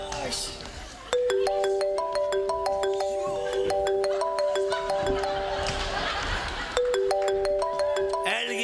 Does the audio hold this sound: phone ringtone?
yes